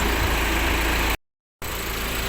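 A modified car's engine idles with its licence plate rattling hard from the vibration, a loud, steady, buzzing drone interrupted by one short silent gap before resuming.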